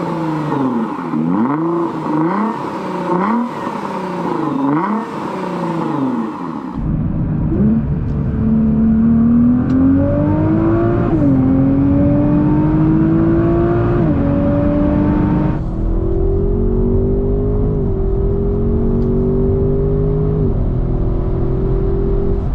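A car engine revs hard with rising and falling pitch, then settles into a loud, sustained drone that climbs steadily as it accelerates.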